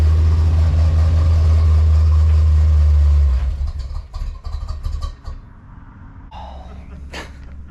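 A swapped-in 350 V8 in a 1984 Chevy Silverado rumbles loudly at idle, then stumbles and cuts out, leaving fainter clunks and rustling around the truck.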